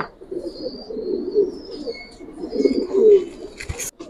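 Several pigeons coo in low, repeated throaty phrases close by, with a few faint higher chirps above and a brief handling clatter near the end.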